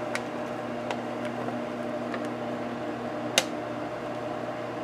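A microwave oven runs with a steady electrical hum and drone, loud and close, with a few faint clicks and one sharper tick partway through.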